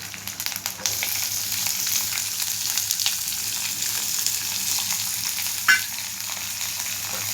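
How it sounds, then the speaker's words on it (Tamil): Finely chopped onions frying in a pan with curry leaves, a steady close sizzle with occasional stirring scrapes and one brief clatter, no talking. "இதில் பொடி பொடியாக நறுக்கி வச்ச வெங்காயம்,"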